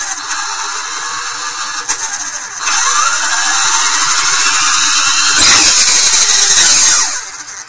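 A Schwaben-tec Velociraptor 1000 motor starts up and spins, a loud high whine that steps up in pitch, holds with a shrill squeal, surges briefly, then cuts off near the end.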